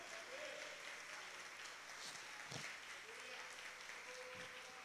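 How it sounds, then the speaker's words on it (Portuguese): A church congregation applauds in praise, a steady wash of clapping at low level running the whole time, with a few brief louder bumps and faint voices mixed in. "Aplauda o Senhor, glorifica o Senhor."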